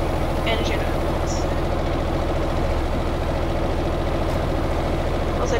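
A ship's engine running in the engine room in the Stormworks game, a steady, loud low rumbling drone that holds constant throughout with no breaks.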